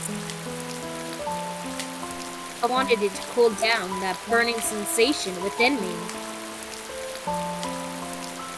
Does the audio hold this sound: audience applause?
no